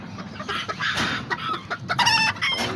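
A pinta hen and a rooster cluck close by in a steady stream of short calls. One bird breaks in with a higher, crowing cry near the end, and no one speaks.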